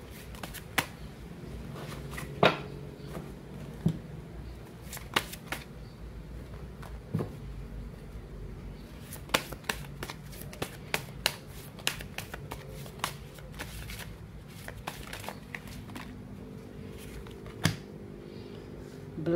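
Tarot cards being shuffled by hand in a long, close series of crisp riffling flicks and soft slaps with brief pauses.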